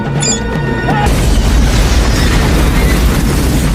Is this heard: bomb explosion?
yes